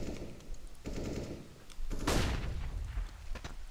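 Video game gunfire: rapid, loud bursts of shots with a heavy blast near the middle, over a dense, rumbling background.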